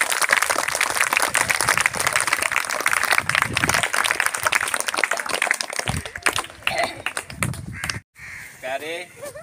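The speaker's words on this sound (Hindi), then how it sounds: "एक बार रविंद्र जी के लिए जोरदार तालियां।" An audience clapping for a speaker at a school event on tobacco and substance abuse awareness, a dense patter of applause for about six seconds with crows cawing loudly nearby and voices in the background.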